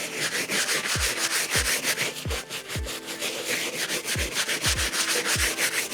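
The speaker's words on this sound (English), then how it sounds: "we hit the sole in nice circular motions" A stiff brush scrubbing a sneaker sole with cleaning foam in circular motions, producing rhythmic rasping strokes about every half second, close and steady with no talk.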